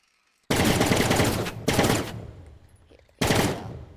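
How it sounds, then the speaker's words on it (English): A machine gun on a war tank's turret in a video game fires three sustained bursts, loud and close, the first about a second long, then two shorter ones separated by gaps of quiet. "Yeah, it fires. Only has machine guns, sadly."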